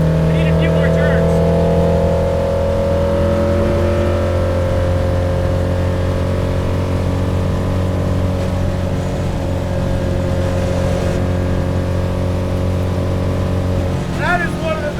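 A 1978 Fiat Abarth 131 'Alitalia' Group 4 rally car cruises on a Florida highway with a steady, loud engine drone and road noise throughout, rising slightly at the end, with voices talking inside the car.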